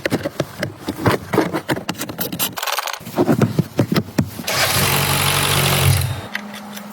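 A Mercedes-Benz engine runs cold just after an oil and filter change, a steady mid-pitched idle with clattering and knocking up close, swelling into a louder sustained roar midway before easing off near the end.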